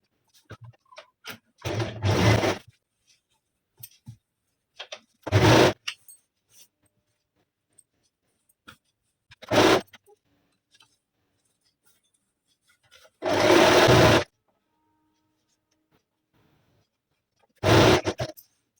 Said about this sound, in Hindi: तो हम इसे स्टिच कर लेते हैं।